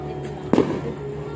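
New Year fireworks bang outdoors, two sharp distant pops about a second apart over a steady hum of background noise.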